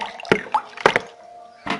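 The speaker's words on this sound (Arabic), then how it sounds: "هحط عليها خل، ميه بخل زي ما انتم شايفين" Vinegar poured into a glass of water while preparing tahini, heard as a few short splashes and drips, close and moderately loud, with brief pauses between them.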